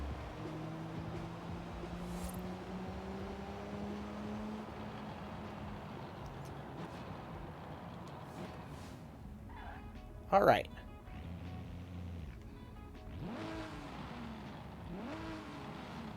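Car engine cruising at moderate, steady power in the racing game Forza Horizon 5: a low, even hum with gentle pitch shifts that runs under near-constant talk, plus a brief louder burst partway through.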